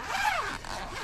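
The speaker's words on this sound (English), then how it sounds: "got the zipper" A zipper on an ICECO JP50 portable refrigerator's pocket is pulled open in one quick, raspy sweep, close up and fairly quiet, with no talking.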